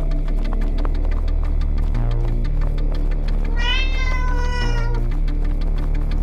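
A cat meows in a rising-and-falling, drawn-out call over a steady low droning hum in an animated Trollface and Maxwell liminal-anomaly movie; the single meow is clear and fairly close.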